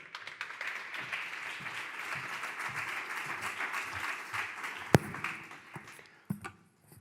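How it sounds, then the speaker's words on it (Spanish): Audience applause for David Taberna, director of Diario Vasco, at a public forum, moderate and fairly distant clapping that holds steady, then thins out with a few sharp taps near the end. "Un aplauso para él, por favor."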